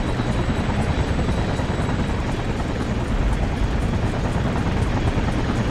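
A helicopter in the inFamous game drones steadily with a rapid rotor chop and a thick engine roar, loud and continuous throughout, with no speech.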